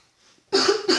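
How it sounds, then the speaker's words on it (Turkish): Two quick, harsh coughs burst out close to the microphone after a drink of cold Fanta, coming right after a near-silent pause. "Soğuk Fanta içtik, öksürmeler geldi."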